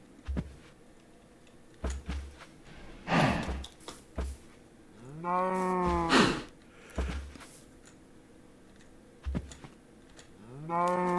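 Blocky cows in the video game Minecraft moo several times, drawn-out lowing calls spaced across the scene, with soft game clicks and faint background between them and no talking.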